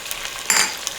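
Food crisping in a hot pan turned up high, a steady broadband sizzle that swells briefly in the middle and again at the end.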